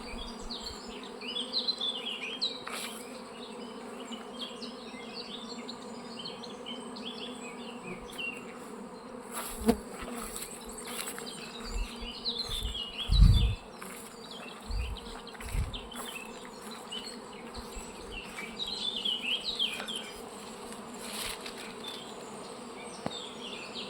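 Honeybees buzz around beehives at an apiary in the Low Beskids in late June, a dense continuous hum of many insects near and far, with a few louder bees passing close by and occasional thuds.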